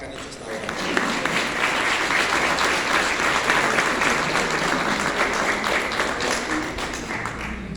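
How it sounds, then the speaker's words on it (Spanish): Applause for the PRI Zacatecas party leadership at a political event, a dense, steady roar of many hands clapping that fills the space throughout, with murmuring voices mixed into the crowd noise. "pido un fuerte aplauso para la dirigencia del PRI Zacatecas y para Carlos Peña Vadillo por el gran trabajo que han hecho hasta ahora"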